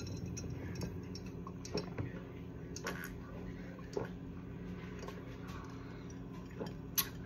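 Ice cubes knocking in a glass of cucumber water, giving sparse, irregular small clinks and ticks, close but faint over a low steady background hum.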